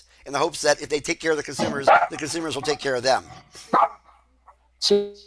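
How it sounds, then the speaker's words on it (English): Someone talks steadily indoors, then a single sharp, close dog bark sounds near the end. "sorry about my dogs. I try to mute when they bark."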